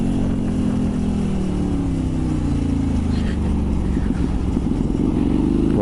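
A Hyosung 250 sport motorcycle engine running steadily loud and close, its pitch rising and falling as it revs, with a constant droning roar and no talk.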